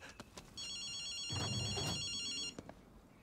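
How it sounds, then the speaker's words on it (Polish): A street payphone rings in the game Ghostwire: Tokyo, one sustained electronic trill-like ring lasting about two seconds, fairly near and clear, with a few faint clicks around it and no speech. "Słyszysz telefon?"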